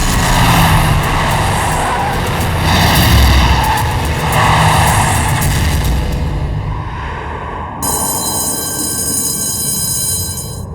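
A car pulls away under a dramatic film score, its engine and tyre noise rising loud and close before a clattering, ringing burst near the end.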